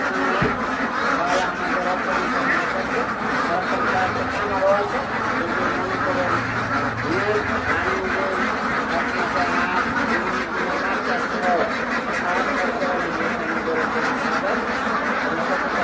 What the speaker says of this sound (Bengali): এখানে আমার কয়েকটা ইন্ডিয়া রানার হাঁস আছে।